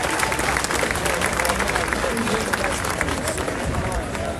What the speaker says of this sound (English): Everyone give Carly a big round of applause.